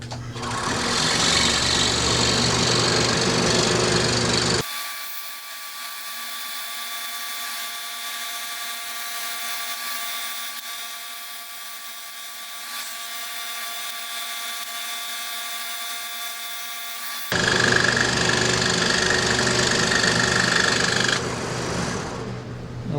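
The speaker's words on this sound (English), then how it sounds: "This time I'm going to do the cut counterclockwise." A power saw, likely a scroll saw, cuts a wooden guitar pick tray counterclockwise, running loud and steady at first, then dropping to a quieter hum for most of the cut before rising again near the end.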